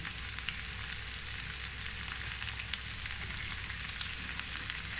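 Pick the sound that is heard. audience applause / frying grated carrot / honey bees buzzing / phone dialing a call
frying grated carrot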